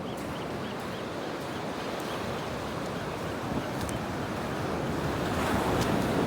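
Ocean waves wash continuously onto the shore at Natural Bridges beach, a loud, steady surf roar mixed with wind buffeting the microphone, with no talking.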